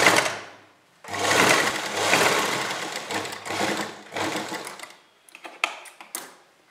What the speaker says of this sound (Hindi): इस पट्टी के ऊपर, ये कपड़ा भी हमारा इसी तरफ रहेगा और इस पर सिलाई लगाएंगे